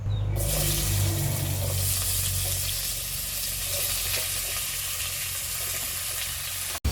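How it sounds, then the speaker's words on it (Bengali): Radish, kohlrabi, pumpkin, flat beans and potatoes fry together in a pan with a steady, close sizzle and some stirring for several seconds, with a low hum underneath and no voices. "মূলো ওলকপি আর কুমড়ো আর সিম আর আলু এগুলো সব আমি একসাথে ভেজে নেব"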